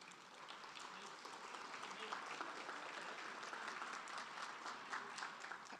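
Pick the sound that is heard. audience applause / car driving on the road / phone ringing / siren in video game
audience applause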